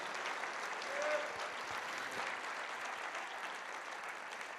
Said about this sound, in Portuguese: Pode aplaudir, Deus merece mesmo tudo isso.